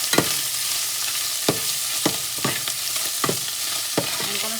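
Cabbage fries in a pan with a steady sizzle while a utensil stirs and scrapes it, giving sharp clacks about every half second over the continuous hiss, with no talking.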